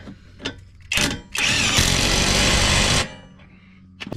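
Impact wrench tightening a rear shock bolt on a 2000 Jeep Grand Cherokee, a few short clicks and brief bursts followed by one loud, sustained hammering whir of about a second and a half, close up.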